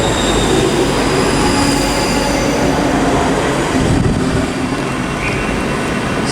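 Two Class 334 electric trains, units 334022 and 334010, pass each other at Haymarket station, a steady loud rumble of wheels and rail noise with faint squeals, close by throughout with no talk.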